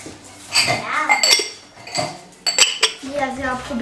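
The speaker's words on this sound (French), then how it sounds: "Ah oui, la vaisselle à vider aussi." Dishes and cutlery clink and clatter as a kitchen dishwasher is unloaded, several sharp metallic and ceramic knocks close by in quick irregular bursts, with a brief voice near the end.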